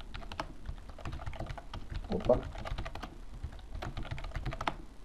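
Rapid typing on a computer keyboard during a DDTank Brasil game session, a dense stream of close, crisp key clicks throughout, with a brief spoken exclamation partway through.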